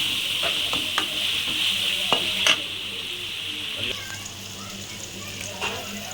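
Onions fry in a pan for a boiled egg gravy, hissing steadily up close while a spoon stirs them with scattered clicks and scrapes against the metal.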